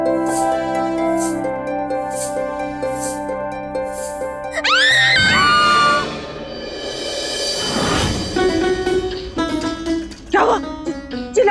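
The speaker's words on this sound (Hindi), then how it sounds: "चिल्ला क्यों रही है?" A woman screams in fright in a kitchen at night. The brief, piercing, rising shriek cuts through dramatic background music, then gives way to a noisy rush.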